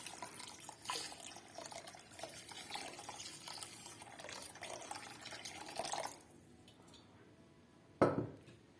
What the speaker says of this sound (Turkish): Üstüne ılık bir su koyuyoruz.